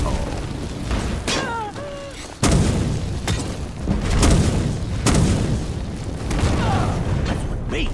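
A Skyrim explosion sounds in the middle of game action: a heavy low boom rises abruptly near the middle, with rumbling debris and clattering combat noises around it and a voice talking at moments.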